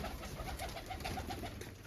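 Soft, repeated pigeon coos in a steady rhythm, faint and low beneath a constant background hiss.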